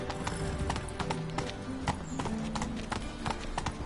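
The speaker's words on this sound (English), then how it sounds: "Whoa there, Roach." A horse in The Witcher 3 video game clip-clops at a walk, with steady repeated hoofbeats up close amid faint game ambience and a low tonal hum.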